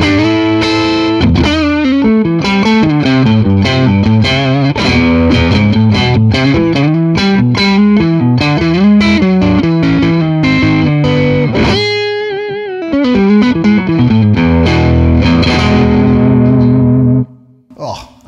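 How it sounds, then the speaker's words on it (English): An electric guitar played through a cranked Orange Rocker 32 tube combo amp gives crunchy, compressed, overdriven tones in a loud, continuous run of notes and chords, ending with a sustained chord that cuts off. "Gorgeous, very, very nice, woody, kind of crunchy tones."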